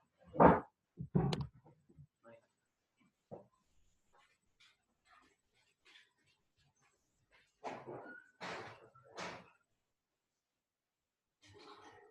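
A pet dog indoors barks and fusses, with loud close barks at first, then scattered quieter yips, whimpers and shuffling, and another burst of barks later on.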